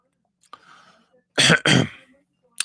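Two hard, close coughs from one person follow a soft breathy sound, then a short catch of breath at the very end.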